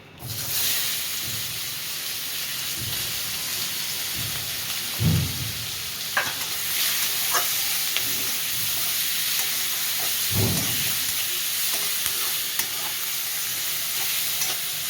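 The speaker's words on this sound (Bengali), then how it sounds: "পেঁয়াজটা লাল লাল করে ভেজে নেবো।" Chopped onions sizzle in hot oil in a pan with a loud, steady hiss, punctuated by a few dull thumps and scrapes of stirring.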